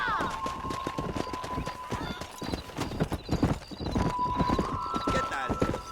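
Galloping horse hooves from the Western game Red Dead Redemption, a rapid, steady clip-clop rhythm close and loud throughout, with a horse whinny and game music layered over it.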